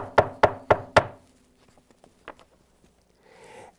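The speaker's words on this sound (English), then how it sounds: "The knock thuds louder, louder, and louder." Four heavy, evenly spaced thuds strike a door in quick succession, loud and close, followed by quieter scattered taps and a brief rustle in near silence.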